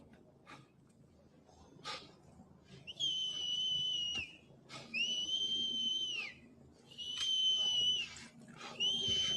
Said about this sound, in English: You can hear whistles coming out from the second floors of the local homes.